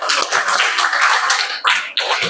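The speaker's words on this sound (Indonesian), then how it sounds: "Tepuk tangan." A classroom of students clapping their hands together, a loud, dense burst of applause that runs steadily with two brief dips before rising again, no talk over it.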